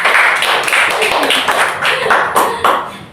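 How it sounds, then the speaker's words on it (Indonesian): A classroom group of students claps together at the close of a micro-teaching lesson, a dense run of uneven, overlapping hand claps lasting about three seconds, fairly loud and close, with faint voices underneath. "Beri tepuk tangan dong buat kita semua"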